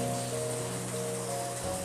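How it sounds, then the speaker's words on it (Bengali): Rain keeps falling outside a house after a night of downpour, a steady, even hiss with a faint hum beneath it and no voices. "এখনও বৃষ্টি পড়ছে"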